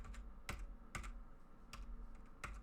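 A computer keyboard clicked repeatedly during a tabletop gaming session, with sharp, fairly faint key taps in an irregular rhythm over low background hum.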